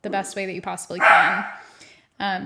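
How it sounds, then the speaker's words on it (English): A dog barks loudly nearby in a short burst between stretches of a woman's speech, its cry trailing off before the talking resumes. "Sorry for the barking."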